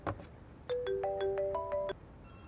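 An incoming call sets off a phone ringtone: a bright, melodic tune of quick repeated notes that rings loudly for just over a second after a short burst of background noise, with no talking over it.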